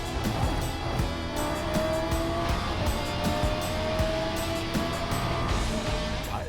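A Trans Am race car engine drones steadily down the straightaway at VIR, a loud, continuous mid-pitched hum with a slowly shifting tone and no talking.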